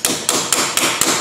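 Hammering on a Ford Explorer Sport Trac during an ABS wheel speed sensor repair: five evenly spaced, sharp strikes, about four per second, close and loud.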